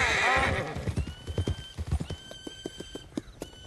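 A horse in the Red Dead Online western game gives a loud whinny, then its hooves clip-clop in a quick, uneven rhythm at close range with no talk over it.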